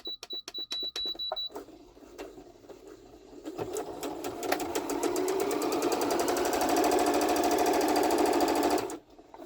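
A Rubina H40A sewing machine runs a plain, long straight stitch: a few separate needle strokes first, then a steady, fast mechanical whirr that carries on loud and close before stopping abruptly.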